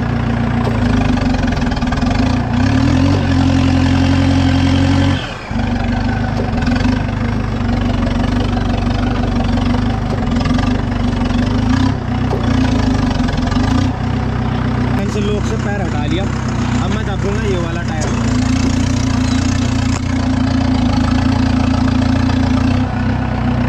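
A tractor engine chugs steadily and loudly throughout, a low continuous rumble with a few brief dips, while someone talks over it.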